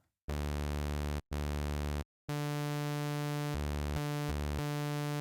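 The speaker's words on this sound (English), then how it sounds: "So we've got quite a basic sawtooth wave." A buzzy, harmonically rich sawtooth tone from the Arturia Pigments software synthesizer plays alone in sustained notes, with two brief pauses, then a long held note that shifts pitch slightly.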